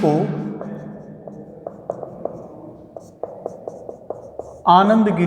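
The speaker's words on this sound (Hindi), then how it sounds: "तो आनंद लिखना है, आनंद गिरी" Chalk or marker writing on a classroom board, a series of short sharp taps and strokes in an irregular rhythm, close and distinct between a teacher's speech at the start and end.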